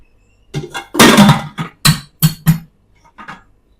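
Pressure cooker pot flipped over onto a metal plate, a series of sharp clanks and knocks in quick succession, loud and close, with no speech.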